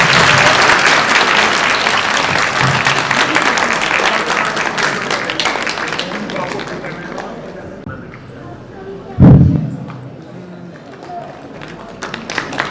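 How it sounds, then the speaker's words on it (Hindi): Loud, dense applause from a crowd at a religious gathering for a Bhagavat Katha at a Sanatan Dharma temple, sustained for several seconds before thinning out, with a single louder thump near the end. "जोरदार तालियां।"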